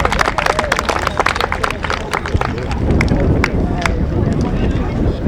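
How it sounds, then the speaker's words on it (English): Audience applause and cheering after a dog scurry round at the Monmouthshire show, a loud, dense outdoor clapping crowd with wind buffeting the microphone and someone talking over the top. "Give him a big round of applause for that, ladies and gentlemen."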